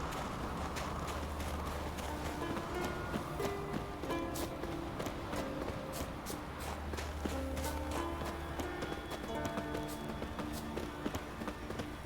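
Roach, the horse in The Witcher 3, gallops on with a quick, even patter of hoofbeats under a bed of game music at moderate volume.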